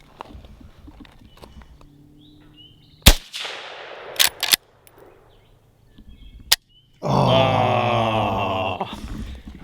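Several sharp, sparse shots from a Golden Boy Silver .22LR lever-action rifle while plinking, isolated cracks spread across the clip with quiet gaps between them, followed by a loud sustained noise toward the end.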